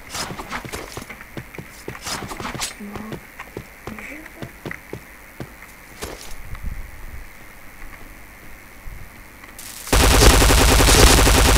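Shots fired in a PB online shooter game ring out as sharp, rapid cracks in bursts over the first few seconds. Scattered pops follow, then a loud steady roar takes over near the end.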